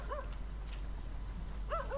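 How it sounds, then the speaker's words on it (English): Dogs in the video game Hades 2 giving short yips and whining barks, two quick bursts at the start and end over a low steady game background hum. "I'm not allowed to pet the dogs."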